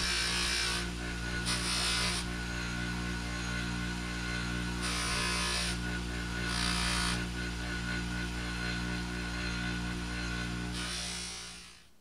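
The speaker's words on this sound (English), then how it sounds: "I'm gonna hit it with a wire wheel and the polisher" A wire wheel and polisher cleaning the copper contact disc from a Suzuki Samurai starter motor, a steady close electric whine with harsh wire-scrubbing bursts that come and go as the tool touches the disc.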